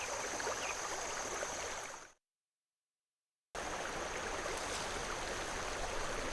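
A steady rushing of brook water flows at the Coldwater Brook Bridge in the adventure game The Night of the Rabbit. The faint, even murmur drops out for a moment of silence, then resumes unchanged.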